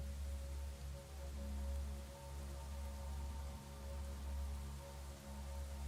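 Rain falls as a sound effect in a song, a steady, soft hiss of drops spread evenly across the whole stretch, faint and continuous with no voices.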